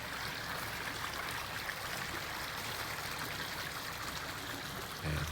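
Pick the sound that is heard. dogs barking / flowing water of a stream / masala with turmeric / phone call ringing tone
flowing water of a stream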